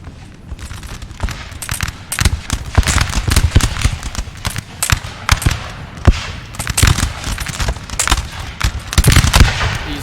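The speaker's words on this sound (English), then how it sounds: "Britain now opening fire." Rapid, irregular volleys of British infantry muskets crack out in a Napoleon: Total War battle, dense overlapping gunfire bursts filling the whole stretch, loud and close with a continuous rumble beneath.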